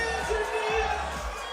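A crowd cheers and roars at a FIBA 3x3 World Tour basketball event in Chengdu, a dense continuous mass of voices with a few shouts rising above it.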